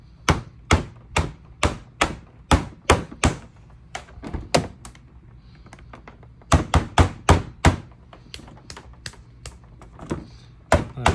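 Repeated sharp hits land on a prototype drum machine controller built for an Atari, a fairly even run of loud, near taps and thunks with a short pause before the strikes resume.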